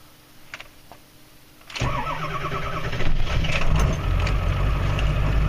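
After a near-silent start, a truck engine cranks in extreme cold at about minus 37 degrees, catches within a second or so and settles into a loud, steady run.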